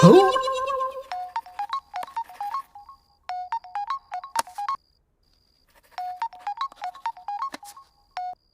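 A phone plays a chirpy electronic ringtone, with short melodic bursts repeating in clusters separated by brief pauses, and a louder noise at the very start.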